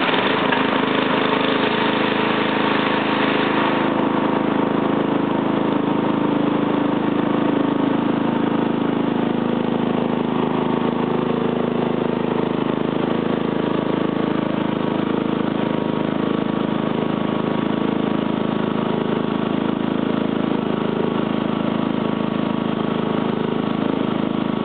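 A petrol engine on an ex-army battery charger runs steadily after priming and choke, a loud, close, unbroken mid-pitched drone with no talk.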